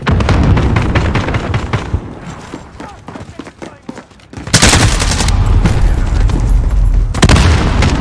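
Call of Duty Modern Warfare team deathmatch battle: dense rapid gunfire and booming blasts, thinning briefly in the middle before a loud grenade-like burst of heavy firing resumes, with game voice callouts mixed in.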